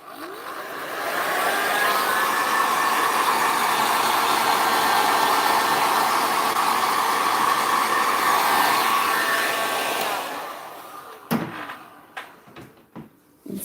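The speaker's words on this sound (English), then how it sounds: "I might just use the heat gun on low heat just to dry it off a little." A heat gun on low heat blows over POSCA marker ink on resin, a steady loud whooshing hum that starts, holds for several seconds, then cuts off, followed by a few close clunks and knocks.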